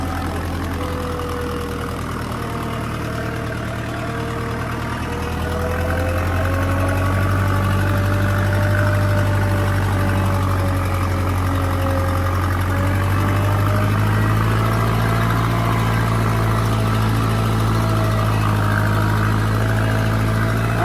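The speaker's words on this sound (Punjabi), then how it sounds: "ਟਰੈਕਟਰ ਫੁੱਲ ਚੱਕਰ ਡ੍ਰੌਪ ਕਰ ਰਿਹਾ" A Farmtrac 6055 tractor engine runs steadily at close range, a loud low drone with a slowly wavering pitch, no voices.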